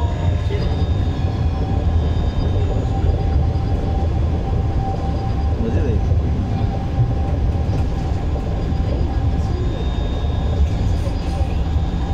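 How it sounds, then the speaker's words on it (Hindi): An Education City tram at Qatar Foundation pulling in, giving a steady rolling rumble with a faint high whine, close and fairly loud, with people talking quietly in the background. "ट्रेन आ गई हुई"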